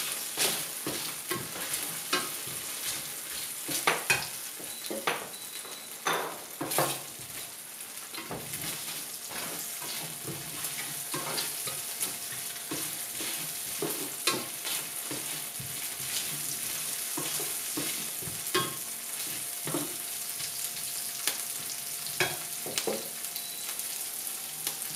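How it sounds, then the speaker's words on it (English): Onion and ginger sautéing in a pan still greasy from fried beef, a steady sizzle broken by repeated scraping and stirring clicks of a utensil against the pan, with no talking. "So in the same pan where we fried the beef, you saute the onion and the ginger."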